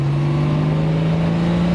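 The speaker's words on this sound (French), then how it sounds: "Alors quant au moteur, ouvrez vos oreilles." Jaguar E-Type classic sports car engine running with a modernised, more powerful installation, a loud, close, steady mechanical drone with a strong low hum that holds throughout, no talking over it.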